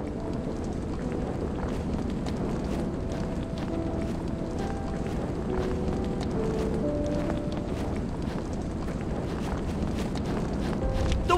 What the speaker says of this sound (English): The wind's picking up like crazy.